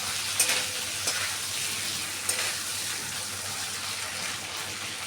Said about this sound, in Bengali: আদা বাটাটা দিয়েও আমি একটু ভালো করে ভেজে নেব।